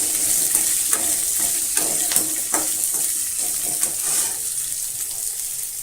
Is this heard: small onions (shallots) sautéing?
yes